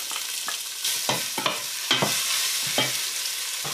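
Coriander root, black pepper, garlic and galangal stir-fried in hot oil for a Thai palo stew: a steady close sizzle broken by several sharp scrapes and knocks of a spatula against the pan, no voices.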